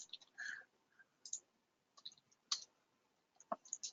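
A few sharp computer mouse clicks during a strategy webinar, scattered and quiet, with short pauses and no voice.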